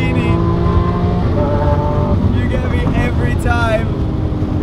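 A Lamborghini Aventador S engine revs hard at close range, its loud, steady roar rising in pitch and then dropping sharply with each gear shift.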